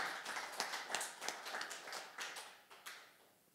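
A church congregation at a Sunday service claps in scattered, uneven bursts, fairly faint and distant, the claps thinning out toward the end.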